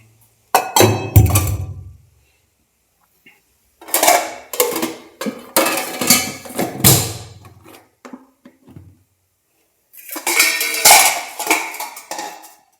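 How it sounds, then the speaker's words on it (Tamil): Clattering pots and dishes being handled and washed in bursts, with clinks and knocks of metal, separated by short quiet pauses. "நம்ம இந்த பாத்திரத்தை எல்லாமே க்ளீன் பண்ணிடலாம்"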